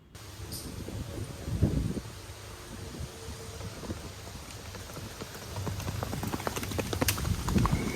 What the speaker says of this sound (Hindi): here you can see how beautifully this horse walks in Reval Chal